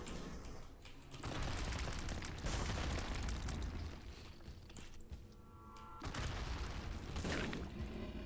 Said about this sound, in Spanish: A mí me resulta ultra satisfactorio el sonido de la explosión